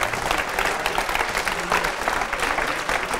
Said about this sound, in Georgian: აპლოდისმენტები ამ კაცს